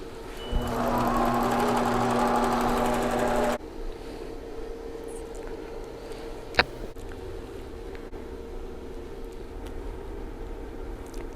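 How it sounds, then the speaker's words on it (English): Intelliquilter computerized quilting machine stitching out a quilt design, giving a steady rapid whirring hum for about three seconds, then stopping and leaving a quiet room hum with a single soft click. "So let's watch Intelliquilter stitch this design out."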